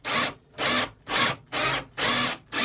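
Sandpaper rubbed by hand to clean out a wooden chair joint hole, six steady back-and-forth strokes in an even rhythm, close and fairly loud with short pauses between them.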